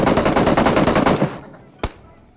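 Rapid automatic gunfire from the mobile battle royale game PUBG Mobile, a loud dense burst of shots that cuts off, followed by a single sharp distant-sounding shot.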